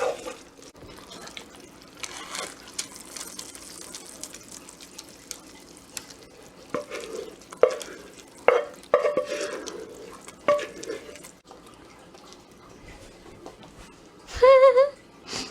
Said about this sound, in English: I'm gonna stir this all up.